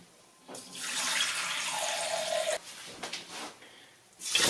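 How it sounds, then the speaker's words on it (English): Tap water runs into a measuring cup in a kitchen. A hissy stream starts, its pitch rising as the cup fills, then stops. A shorter splash and a faucet burst follow. "Then I'm going to go and get 4 cups of water."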